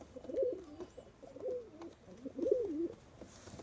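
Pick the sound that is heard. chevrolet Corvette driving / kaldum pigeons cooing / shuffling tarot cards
kaldum pigeons cooing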